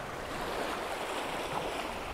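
Ocean waves wash onto the shore in a constant, broad roar of surf with slight swells, close and fairly loud, with some wind rumble and no talking.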